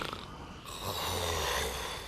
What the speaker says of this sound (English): Now, do you believe me about his snoring?